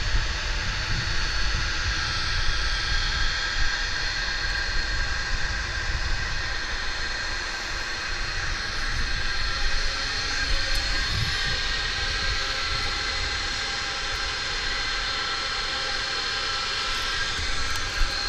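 Airbus A300 jet taxiing at DFW airport, a steady broadband engine roar with a high whine that holds at a constant, fairly loud level throughout, no talk over it.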